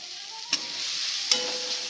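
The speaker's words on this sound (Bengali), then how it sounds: "পেঁয়াজটা একটু ভাজা হবে," Onions (a ground garlic and onion paste) fried in a pan, giving a steady close sizzle broken by two sharp scrapes of a spatula stirring, with no talking.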